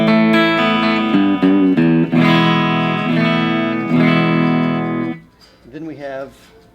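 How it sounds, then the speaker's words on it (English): An electric guitar played through an amp on its first clean setting rings out in sustained strummed chords and single notes, loud and close, fading at the end. "Here's the first clean tone."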